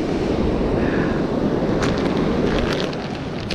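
Strong wind buffets the microphone on a beach during a fishing outing, a constant roaring rush with the surf faint beneath it, and no voices.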